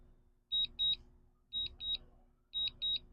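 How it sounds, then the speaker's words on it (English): A high electronic warning beeps in pairs in an aircraft cockpit during a night flight, three double-beeps in a steady rhythm over a quiet low hum. "I've heard other people mention that they wish they could turn that beeping off"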